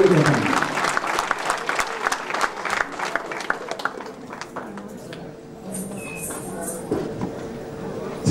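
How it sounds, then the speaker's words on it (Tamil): Crowd at a Tamil music and dance show in the Netherlands claps loudly for several seconds, then the applause thins into scattered claps with a faint hum and other background sounds as it fades. "உங்கள் ஒரு கரகோஷங்களை கொடுக்கிறோம்."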